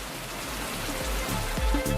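Heavy rain falls across Sengottai in Tenkasi district, a dense, steady wash of drops hitting surfaces, with a few low thuds mixed into the constant hiss.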